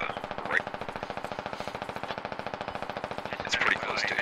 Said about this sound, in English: We actually have a lot of enemy gunshots at Trash Track.